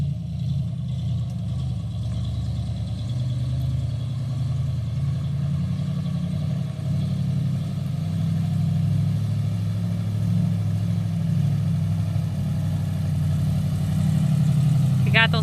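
A 1957 Chevy heavy truck engine idles with a steady, deep low rumble that stays even and close throughout, rising slightly in loudness toward the end.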